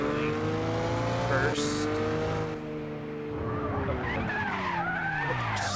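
Car in a racing video game, engine droning steadily while tires skid and squeal through corners, continuous and loud, with a voice briefly speaking over it.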